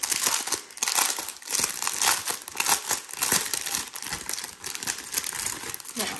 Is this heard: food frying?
no